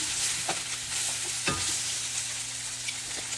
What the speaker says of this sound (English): We're going to let those saute for about 5 minutes, just so they get a little bit soft.